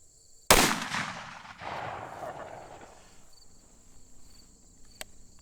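A single loud .44 Magnum gunshot firing a Freedom Munitions 240-grain XTP round cracks sharply outdoors, then its boom rolls away in a long fading echo amid faint insect buzz.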